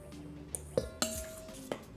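Chopped spinach batter stirred in a bowl, a few close clinks and scrapes of a utensil against the dish, sparse and irregular, with no talking.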